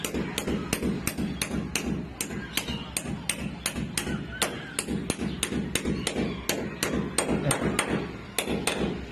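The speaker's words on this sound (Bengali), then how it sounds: "দুটোতেই সমান সমান করে বাড়ি দিতে হবে" A Rawl bolt being hammered in with a long run of sharp, evenly spaced metallic hammer blows, roughly two or three per second, close and loud.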